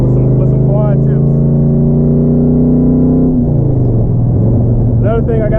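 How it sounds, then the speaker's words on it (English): An LS-swapped Nissan 300ZX running with no mufflers drives close by, its exhaust a very loud deep drone that holds steady, then drops in pitch as the revs fall, with a voice briefly heard over it. "currently I'm running no mufflers, so it's extremely loud"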